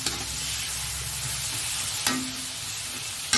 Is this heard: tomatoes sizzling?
yes